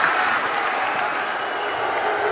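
Basketball arena crowd at a finals game reacting with a sustained wash of applause and murmuring noise, dense and steady throughout, heard from within the stands with no clear individual voices.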